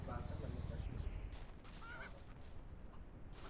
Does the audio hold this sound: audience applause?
no